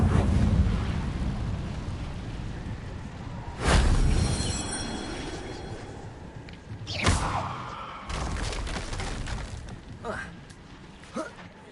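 Whooshing bursts of an Incendio fire spell cast in Hogwarts Legacy, several separate flaring blasts over a steady ambient rumble, with a voice speaking between them.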